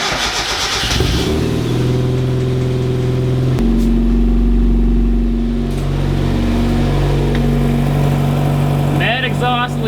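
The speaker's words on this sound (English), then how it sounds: "so there's a mad exhaust leak" A car engine with an exhaust leak from a snapped catalytic converter bolt starts and revs hard, loud and close, with a raspy blatting roar and a sudden drop in pitch partway through.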